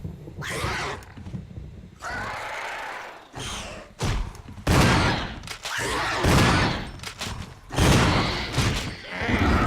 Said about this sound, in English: Maybe if I fire my weapon.